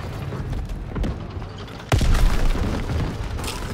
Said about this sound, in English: The tank is on the move!